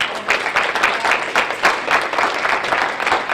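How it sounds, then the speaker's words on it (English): An audience at a reading event gives the speakers a round of applause, brisk overlapping claps that come in slight surges, moderately loud and close. "Another round of applause for our speakers today."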